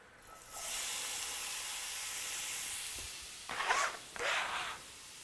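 Onions hitting a hot skillet give a steady broadband sizzle and hiss that holds for about three seconds, then breaks into two louder, bursting crackles near the end.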